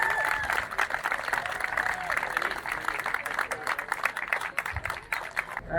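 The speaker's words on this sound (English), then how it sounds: "All right, one more round of applause for these folks." Applause from the crowd at an SCCA time trial awards ceremony at Road Atlanta, many hands clapping steadily at moderate volume, with some cheering and voices mixed in.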